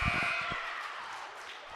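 A basketball game buzzer sounds at the end of the third quarter of a high school boys' varsity game, a loud sustained electronic tone heard amid crowd noise in a gym, fading out.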